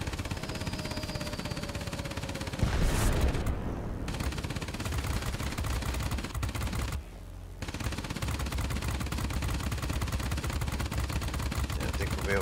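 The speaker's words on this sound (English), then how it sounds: "Alright, so we'll drop a bomb right here." Gunfire and a bomb blast from the World of Warplanes video game, flying a Messerschmitt Me 265 attack aircraft: continuous loud automatic fire over a droning engine, a heavy boom early on and a brief dip before the firing resumes.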